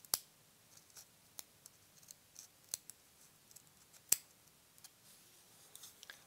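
Scissors trimming excess fur from a songbird figure, a handful of sharp, sparse snips spread irregularly with quiet gaps between, close and crisp over faint handling noise.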